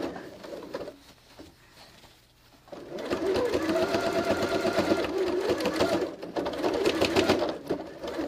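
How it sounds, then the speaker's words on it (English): Sewing machine top stitching around a Christmas stocking, a brief burst of rapid needle chatter, a pause, then a longer steady run of fast mechanical stitching close up. "So you can see I'm top stitching all the way around."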